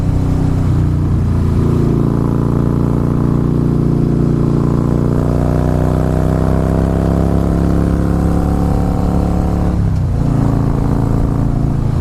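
A Harley-Davidson Fat Boy S with progressive suspension rides a twisty road at over 60, its engine droning steadily and loud with shifting pitch through the corners, plus a brief dip in revs near the end.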